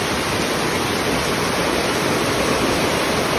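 Floodwater rushes past a rural bridge during Typhoon Uwan, a loud, steady, broadband roar of churning water filling the scene without pause or voices.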